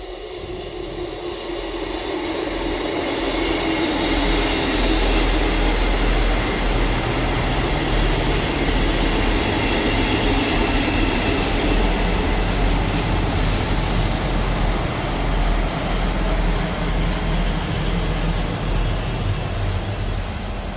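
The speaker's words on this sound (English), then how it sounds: "Arriving in now is the 1151 Scotrail service from Leven to Edinburgh Waverley" ScotRail Class 158 diesel unit arriving at Edinburgh Gateway station on the Leven to Edinburgh Waverley service, a sustained loud rumble of engine and wheels with faint squeals as it rolls in close by.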